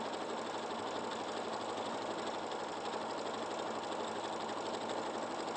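Sewing machine with a quarter-inch foot stitching a vintage star quilt, a steady, even mechanical whir running without pause and without talk.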